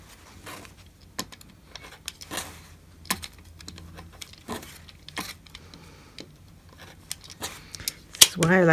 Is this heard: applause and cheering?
no